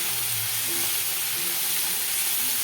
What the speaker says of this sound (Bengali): কেটে রাখা কাঁঠালের দানা দিয়ে কিছুক্ষণ নাড়াচাড়া করার পরে যখন লাল লাল করে ভাজা ভাজা হয়ে যাবে